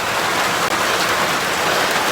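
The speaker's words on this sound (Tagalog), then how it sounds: "Grabe, umuulan talaga oh." Steady, dense hiss of rain pouring down continuously, broadband and loud, with no voices or other sounds standing out.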